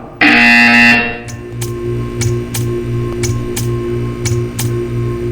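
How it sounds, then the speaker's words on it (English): A loud electronic buzzer from the Portal 2 video game sounds for just under a second, then gives way to a steady, clock-like ticking with soft tonal chimes beneath it. "When you hear the buzzer, stare at the art."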